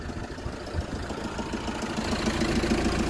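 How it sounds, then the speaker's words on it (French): A car engine idles steadily after being started, a dense low rumble with a faint knocking texture that grows slightly louder toward the end, with no talking over it. "Donc là voilà, le moteur est en marche."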